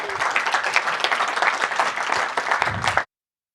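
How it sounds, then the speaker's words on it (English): Audience applause welcoming a panel at a Latin America Day conference, a dense, even wash of many clapping hands for about three seconds that ends abruptly. "Welcome them with a round of applause"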